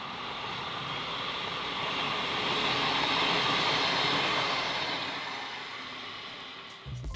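The LVR train set departs Junee for Cootamundra, rumbling past steadily, its roar swelling to a peak and then fading as it pulls away, with no voices.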